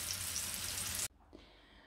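Cabbage rolls (gołąbki) frying in a pan, a loud steady sizzle that cuts off abruptly after about a second, leaving a faint quiet background.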